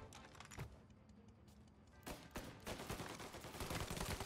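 Gunfire in the video game Mafia Definitive Edition during a sniper fight, sharp shots and rapid bursts that grow denser toward the end, with no talking.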